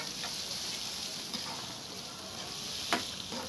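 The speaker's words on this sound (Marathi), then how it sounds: "आता मी इथे कांदे जे आहे चिरलेले ते इथे ॲड करत आहे आता आपल्याला कांदा जो आहे मीडियम हलका लाल ब्राऊन होईपर्यंत चांगला परतून घ्यायचा आहे" Chopped onions fry in a pan with a steady, soft sizzle. A few faint stirring clicks rise above it, and no one speaks.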